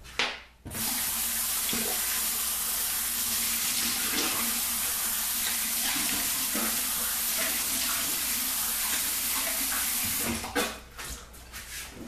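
Cold water runs from a bathroom tap in a steady, close rush for about ten seconds, starting and ending with brief handling noises and splashes; nobody speaks.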